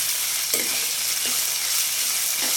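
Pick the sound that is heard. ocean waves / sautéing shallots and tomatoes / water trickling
sautéing shallots and tomatoes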